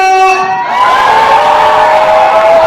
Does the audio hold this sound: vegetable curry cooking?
no